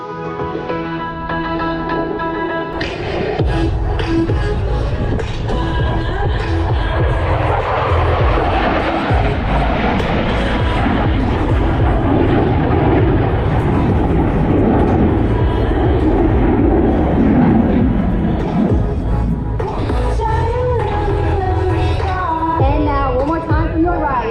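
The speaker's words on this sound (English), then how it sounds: "High-speed pass. Every second he'll be covering the distance of 3 football fields or 950 feet per per second." A USAF F-16 Fighting Falcon jet makes a high-speed pass at an air show demonstration, a loud sustained roaring jet engine that swells and fades, with a voice talking over it.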